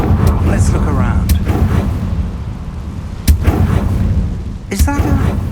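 A Confringo fire spell blasts in Hogwarts Legacy, a sharp booming explosion over a steady rumbling game backdrop, followed by a second burst with crackling debris a moment later.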